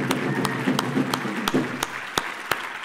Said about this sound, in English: Another round of applause, please, for the National Ballet of Rwanda.